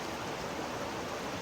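A mountain stream flows steadily at Crabtree Meadows in the Sierra, a constant close rushing wash of water with no breaks.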